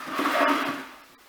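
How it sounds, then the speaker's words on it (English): Hot water at 77 degrees poured carefully over the top of a brewing mash, a short, soft rushing splash that swells and then tapers away. "Just very carefully poured over the top"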